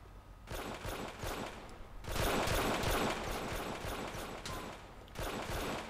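Heavy gunfire in a shootout in the video game GTA IV, dense overlapping automatic bursts rattling continuously with louder surges, close and loud throughout.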